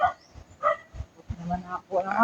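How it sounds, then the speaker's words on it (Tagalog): A dog barks a few times somewhere below a long stone stairway on the trail to a waterfall in Surigao del Sur, the short barks fairly close and mixed with people talking. "may aso doon tumatahol"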